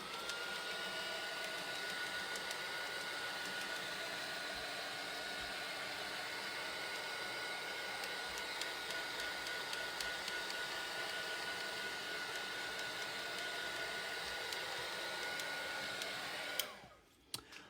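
A heat tool blows a steady, loud whooshing roar for many seconds to dry alcohol ink on Yupo paper, cutting off abruptly near the end with a brief clunk.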